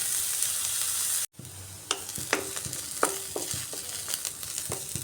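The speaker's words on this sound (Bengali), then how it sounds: "পেঁয়াজটাকে একটু লাল লাল করে ভেজে নিতে হবে" Onions fry in a pan with a loud, even sizzle that cuts out suddenly, then comes back lower, with repeated sharp clicks and scrapes from stirring over the hiss.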